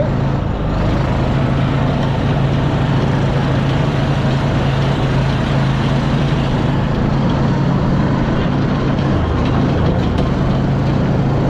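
An off-road vehicle at Xplor Xcaret adventure park in Mexico rounds a corner, its engine a loud, steady low rumble with constant road noise, recorded from inside or very close.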